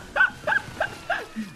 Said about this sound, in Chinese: 我真的觉得这个缩小花真的声音很可爱啊